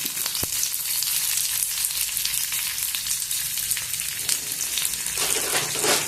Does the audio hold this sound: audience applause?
no